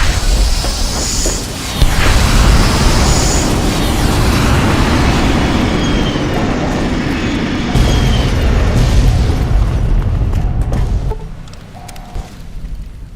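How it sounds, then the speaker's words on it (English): Missiles explode over the NCR in the Fallout game, a loud, dense roar of blasts and rumbling fire that sustains for many seconds before fading near the end. "launch the missiles at the NCR"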